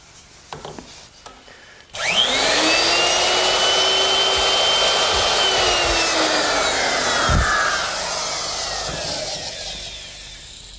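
A router fitted with a half-inch straight cutting bit cuts wood, starting abruptly after a faint lead-in and holding a loud, steady high-pitched whine with a falling tone as it is guided along an edge, easing slightly toward the end.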